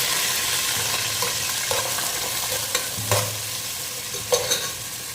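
Sliced onions frying in hot oil for a milk fish curry, a steady loud sizzle with occasional stirring clinks and scrapes of the spoon against the pan, no voices.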